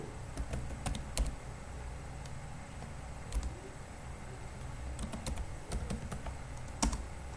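A password is typed on a computer keyboard, with scattered sharp key clicks in short bursts and pauses over a quiet room hum.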